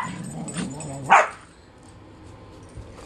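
A jealous dog gives a single sharp bark after a low rumbling growl, close and loud, then falls quiet with faint background noise.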